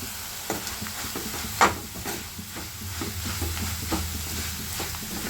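Bitter gourd slices frying on a slow flame in a pan, with a continuous sizzle and repeated scraping stirs, plus one sharper clatter near the start, heard up close with no talk.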